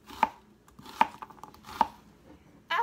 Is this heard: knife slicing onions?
yes